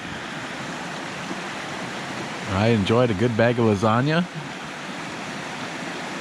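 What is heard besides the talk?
rushing stream water at mountain campsite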